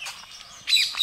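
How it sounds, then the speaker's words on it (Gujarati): Birds chirping and tweeting close by, a bright, busy twitter that swells louder toward the end, with no voices. "અને સાથે આ પંખીઓનો કલરવ"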